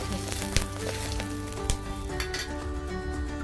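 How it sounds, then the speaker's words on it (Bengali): Bay leaves, cloves and cinnamon sizzle in oil left over from frying potatoes, a steady close crackling hiss with a couple of sharp clinks of utensil against pan. "সেই তেলে আমি দুটো তেজপাতা আর গরম মশলা লবঙ্গ আর দারচিনি দিয়ে নেব"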